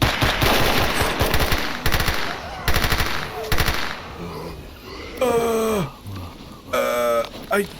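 Rapid automatic gunfire bursts in the video game S.T.A.L.K.E.R. Anomaly, loud and close, rattling in several volleys between short gaps, with a voice talking over parts of it.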